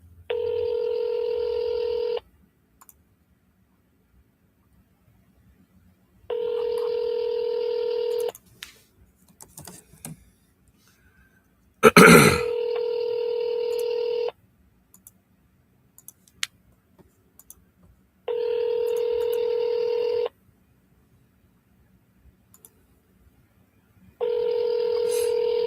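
Telephone tones while an outgoing call is placed: a steady electronic tone sounds for about two seconds and then pauses for about four, repeating five times, with a sharp click burst partway through and faint background noise.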